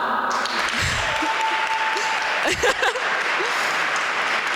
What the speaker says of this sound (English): give a warm round of applause as I read out their code names